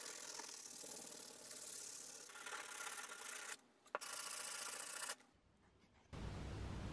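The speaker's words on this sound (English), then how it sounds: "now I'm going to give this a good sanding." A scrap piece of wood gets sanded with a steady, close abrasive rasping that runs for a few seconds, breaks off briefly, then starts again with a rougher, louder grinding.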